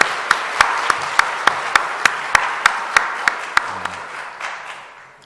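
A church congregation claps in unison, a steady rhythmic beat of about fifteen sharp, evenly spaced claps over a bed of loose applause that gradually fades.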